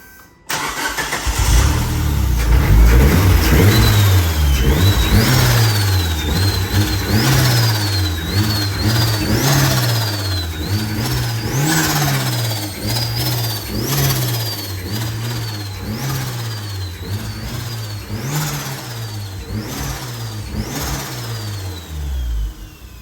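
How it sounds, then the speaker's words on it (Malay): A turbocharged Proton Preve fitted with a G25 turbo starts up and then revs hard in repeated sharp bursts, each blip rising and falling loudly close by, with turbo whine riding over the engine. "So boleh dengar engine, kita start boleh dengar,"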